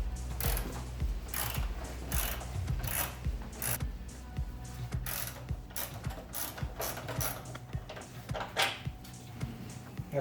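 Mechanical ratcheting and metallic clicks from hand tools taking T25 Torx fasteners out of a BMW E46 M3 engine bay during alternator work, with steady repeated ticks and clatter close by and no talk.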